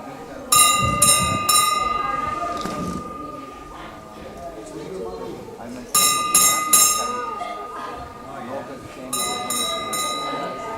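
Temple bell rung at a Hare Krishna temple shrine, three bright metallic strikes with long ringing tones in two bursts, then a third group, over a murmur of people talking nearby.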